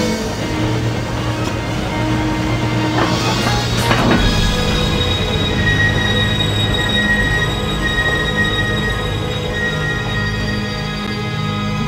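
A train in the video game The Last Express rumbles along the rails with a steady rolling drone and a sharp wheel squeal, continuous and fairly loud throughout.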